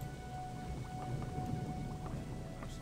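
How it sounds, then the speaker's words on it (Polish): Steady rain patters under a low, rumbling backdrop in the video game Gothic, with scattered drop taps and a faint constant tone, no voices present. "Dobra, pada deszcz."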